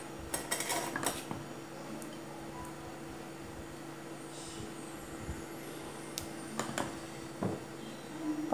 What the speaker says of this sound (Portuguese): Umas 4 colheres de massa em cada forminha, tá?